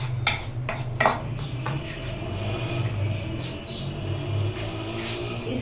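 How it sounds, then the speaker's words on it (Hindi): Flour and baking powder being mixed in a bowl, with clinking utensil-on-bowl taps and scraping, a few sharper knocks near the start, steady and close with no talk. "इसमें half table spoon baking powder डालकर अच्छे से मिक्स कर लेंगे।"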